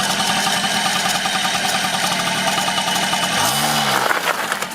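A moped engine runs close by, a dense steady buzzing drone throughout, rising briefly near the end as it is revved, with no talk over it.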